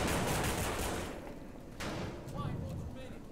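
Gunfire in the zombie survival game No More Room in Hell: a dense, loud volley of shots in the first second, easing off, then scattered sharper bursts over a steady game background, with voices mixed in.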